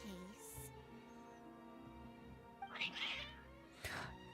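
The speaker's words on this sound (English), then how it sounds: "Cats." Cats meow in the Star Rail video game, giving two short, bright meows near the end over a steady, soft background tone.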